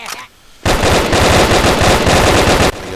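A loud, sustained burst of automatic gunfire in the Brick-Force first-person shooter game, rattling rapidly for about two seconds at close range after a brief quiet moment.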